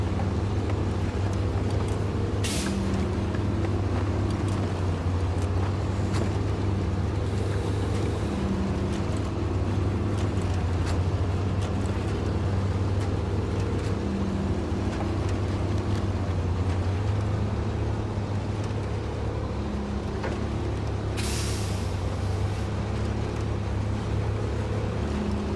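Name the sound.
truck engine straining in SnowRunner video game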